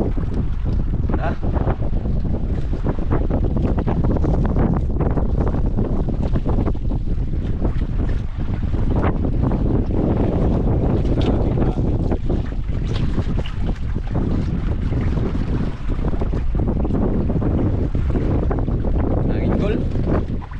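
Gusty wind roaring across a small fishing boat out on open water, constant heavy buffeting with wave wash beneath and occasional voices speaking under the noise.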